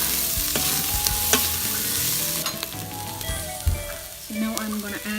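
Spices and chickpeas mixed in an Instant Pot, with a soft sizzle under repeated scraping and knocking of a spoon stirring, close and fairly busy, without speech.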